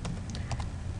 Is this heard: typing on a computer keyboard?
yes